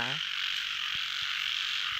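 Frogs croak in chorus on an evening outdoors in Thailand, a dense high shrill trill running throughout with a few low throaty croaks near the start and scattered soft knocks beneath, steady and fairly loud, no talking.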